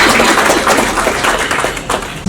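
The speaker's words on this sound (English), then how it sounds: "A round of applause for Ms. Alpasha for being with us." Steady, dense audience applause fills an awards ceremony hall with a continuous wash of clapping that holds for a couple of seconds at fairly loud level and then tapers slightly.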